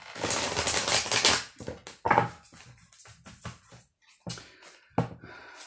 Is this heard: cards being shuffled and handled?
yes